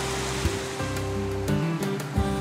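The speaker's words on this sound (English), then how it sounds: "as I'm standing here in this creek, the creek that runs right alongside the property" Water of a creek flowing alongside a ranch property, a steady broadband rush with no talking, plus a few faint tonal notes and soft bumps over the flow.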